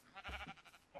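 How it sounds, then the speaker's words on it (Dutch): Sheep in the Minecraft video game bleat in two or three short, close, moderately loud calls, alone with no talking. "Dus hier is een schaap."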